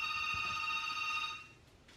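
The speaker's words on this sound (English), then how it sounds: "There's a phone ringing." A telephone rings indoors in a long, steady electronic ring that fades out after about a second and a half, with faint background room noise.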